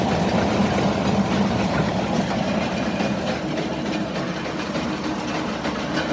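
A Chinese jaw rock crusher's engine runs loud and steady at close range, a dense low rumble that eases slightly lower partway through as it idles down.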